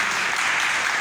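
Steady, dense applause from an audience at a Jain temple celebration of Shri Suparshvanath Bhagwan's Moksha Kalyanak, an even wash of clapping throughout with no voices on top.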